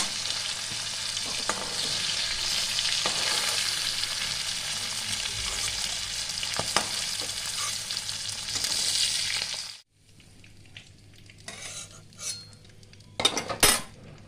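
Pangasius fish pieces frying in hot oil in a covered pan, a loud continuous spattering sizzle for about ten seconds, then quieter clattering of utensils and a few sharp metallic knocks.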